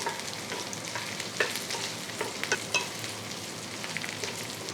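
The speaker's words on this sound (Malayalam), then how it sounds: "ഇതിലോട്ട് വെണ്ടയ്ക്ക ചേർത്ത് കൊടുക്കാം. ലോ ഫ്ലെയിമിൽ വെച്ചിട്ട് ഒന്ന് ഇളക്കി കൊടുക്കാം." Okra frying in a pan over a low flame is stirred with a spoon: a soft, continuous sizzle with several sharper scraping clicks, close by and moderately quiet, with no talking.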